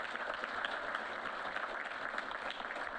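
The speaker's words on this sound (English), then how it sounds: "Yeah, that's worth clapping for." An audience at a 2022 Jet Award event in Nebraska claps steadily, a soft, even wash of applause heard at some distance, constant throughout without voices.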